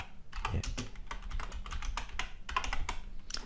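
Code is typed on a computer keyboard in a fast, continuous patter of close key clicks with no one speaking.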